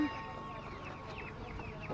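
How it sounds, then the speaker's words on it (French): Chickens and guinea fowl cluck and chirp in quick, repeated calls nearby at a Portuguese market, with faint background chatter from people. "Les poulets, les pintades."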